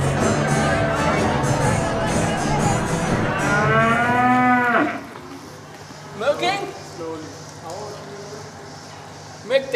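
Cows moo loudly on a farm. A long drawn-out low lasts about five seconds, with crowd-like murmur around it, and fainter, shorter moos follow.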